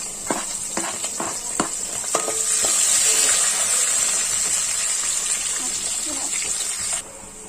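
Onion and green chillies frying in hot oil for tomato rice, a steady loud sizzle that rises and holds, with a few sharp clinks of stirring early on before it cuts off near the end.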